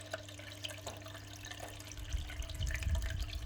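Fish tank water poured into a plant pot during repotting of a Manjula pothos, a light splashing trickle that grows into a fuller gurgling pour toward the end, close and with a faint background hum.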